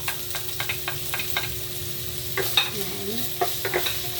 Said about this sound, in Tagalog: Pag mainit na, inuuna ko muna, ginigisa ko muna yung luya sa bulit.